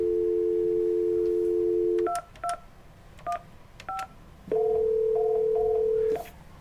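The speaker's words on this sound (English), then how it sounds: "you'll hit the intercom button and their phone number" A steady office phone tone, then several short intercom keypad beeps in a loose rhythm, followed by another long tone; clear and close with no talking.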